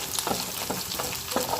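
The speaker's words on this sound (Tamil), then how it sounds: "வெங்காயம் நல்லா வதங்கட்டும்." Chopped onions sautéing in a pan for a Tamil lentil rasam lunch, a steady close sizzle broken by a few soft scraping stirs.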